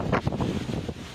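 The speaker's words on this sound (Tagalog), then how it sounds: "Nagsayawan din ang mga puno dahil sa malakas na hangin." Strong typhoon wind gusts buffet the microphone outdoors near the sea, a continuous roaring rumble with uneven surges and no voices.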